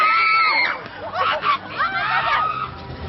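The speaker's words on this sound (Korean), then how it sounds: "좀비들을 피해 사람들이 소리를 지르며 이리저리 달아납니다." Shrill screams rise and fall from a crowd fleeing costumed zombies in a 3 km chase game at a nighttime Halloween event in a Gwacheon amusement park, several overlapping yelps over a busy murmur of people.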